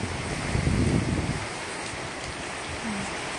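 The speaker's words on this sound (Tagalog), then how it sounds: "Habagat nga hangin." Strong southwest monsoon (habagat) wind during Typhoon Tino, a broad steady roar buffeting the microphone, gusting louder early on and then settling into a constant rushing noise with no voices.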